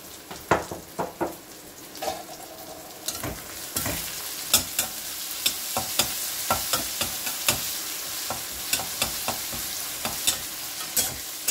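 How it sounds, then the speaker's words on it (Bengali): Chopped onions, two medium ones with salt, sizzle steadily in a hot pan while a spoon scrapes and stirs them in repeated sharp clicks and scrapes, loud and close, with no talking. "পেঁয়াজটা একটু ভেজে নিতে হবে।"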